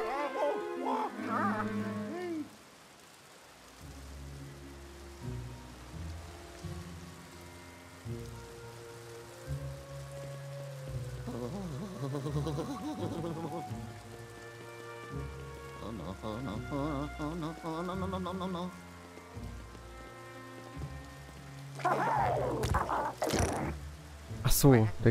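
Steady rain patters throughout in the video game Luigi's Mansion 3, with game music and sound effects layered on top and a louder burst of effects near the end.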